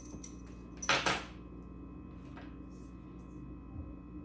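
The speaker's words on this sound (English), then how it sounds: "Got the keys out. Here's the keys for it." Keys for a PrezLock lock jangle in one quick, close burst early on, followed by quiet handling noise and near silence.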